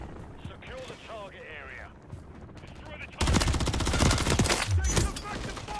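Rapid bursts of Rival SMG fire in Modern Warfare III multiplayer on the Rust map, loud and dense, erupting after a stretch of quieter game ambience with a voice talking throughout.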